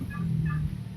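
A turkey on a farm gobbles in a quick rattling burst over a low steady background hum, fairly close and clear, with no talk during the call.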